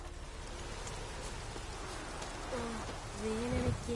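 Steady rain falls in The Witcher 3: Wild Hunt, a constant soft hiss of in-game rainfall throughout, with a voice briefly speaking over it near the end.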